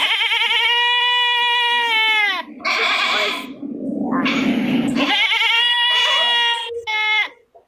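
A goat bleats loudly and close by in long, wavering cries, with a short break between calls and no one talking.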